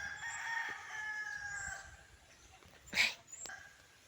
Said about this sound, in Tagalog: Mga manok ang ingay.